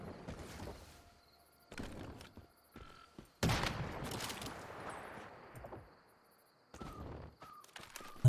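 Gunfire in the survival shooter Once Human: a few sharp bursts spread across several seconds, the loudest near the middle, separated by quieter gaps with faint background game ambience.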